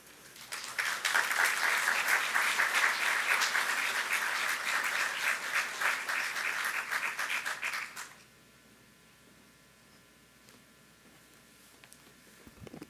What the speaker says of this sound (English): I'm glad you clapped even after they introduced me as a tax attorney